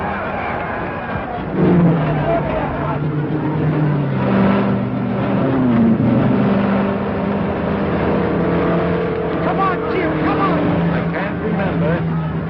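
An official car runs along the Indianapolis 500 track, its engine drone rising and falling steadily beneath near-continuous excited announcer commentary and crowd noise.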